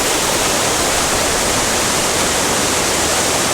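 The Dzhurynskyi waterfall in Ukraine's Ternopil region gives a dense, unbroken roar of falling water, loud and steady throughout with no voices.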